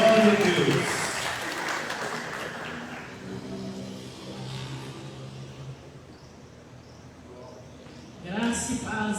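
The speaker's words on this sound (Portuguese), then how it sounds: "Aplaudam ao Senhor." A church congregation applauds during a worship service, with loud clapping at the start that fades under lingering voices and music, and speech near the end.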